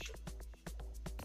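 Vocal chop vox instrument in Caustic 3 for sgidongo amapiano, a quick rhythmic string of short chopped syllable hits over a steady low bass, faint and brief.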